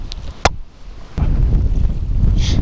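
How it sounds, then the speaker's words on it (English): Wind blasts into the microphone outdoors, a loud low roar that jumps up after a couple of sharp knocks and then rumbles on continuously, with no talk. "I'm gonna block the wind out for right now."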